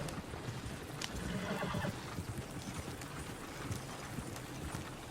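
Horses whinnying in Red Dead Redemption 2 over a busy background of clip-clopping hooves and ambient noise, fairly distant and continuous, with no speech.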